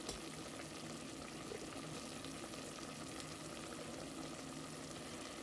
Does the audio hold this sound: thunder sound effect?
no